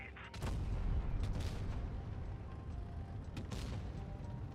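Heavy tank gunfire in World of Tanks Blitz: a few booming shots ring out over a continuous low rumble of battle noise.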